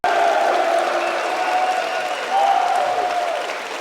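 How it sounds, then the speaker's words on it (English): A crowd applauds steadily throughout, with cheering and voices mixed into the sustained wash of clapping. "give these guys a round of applause"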